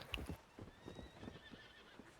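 A horse in a frontier roleplay video game neighs loudly near the start with a clear whinny, then hooves clip-clop steadily through the rest, ending in a sharp loud burst.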